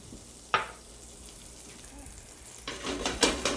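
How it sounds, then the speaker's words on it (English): Blanched carrots sauté in butter in a fresh skillet with a soft, steady sizzle, broken by a sharp clack early on and a burst of louder frying and scraping near the end. "I'm going to let my carrots saute in the butter."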